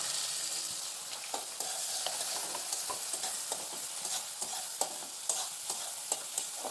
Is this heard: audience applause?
no